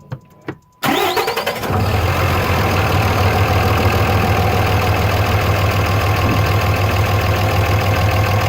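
A couple of clicks, then a 24-valve Cummins diesel engine cranks, fires up and settles into a loud, steady, rumbling idle that continues to the end.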